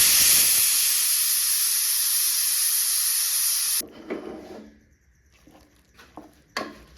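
A stovetop pressure cooker cooking jackfruit with water lets off a loud, steady rush of hissing steam for several seconds. It then stops suddenly, leaving a quiet kitchen with a few soft clatters.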